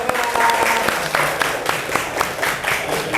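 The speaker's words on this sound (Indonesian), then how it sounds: "Tepuk tangan dulu, tepuk tangan." Schoolchildren at an Islamic boarding school clap together, loud rhythmic bursts of applause in a fairly close room, with a voice briefly heard over it.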